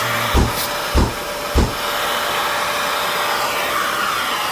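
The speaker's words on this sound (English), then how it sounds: "Before that ash that just fell down gets too spread around, I'm going to go ahead and vacuum that." A vacuum cleaner runs steadily, sucking up spilled ash from around a coal-burning stove, its broadband whine preceded by three short thumps or bumps in the first two seconds.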